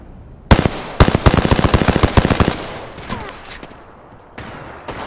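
Rapid automatic gunfire in an Apex Legends match, a sharp close burst of evenly spaced shots that cuts off and is followed by a couple of scattered single shots.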